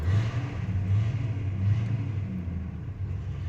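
The engine of a 1985 Chevy C10 pickup idles while warming up, giving a low, steady rumble with slight pulsing swells and no talk over it.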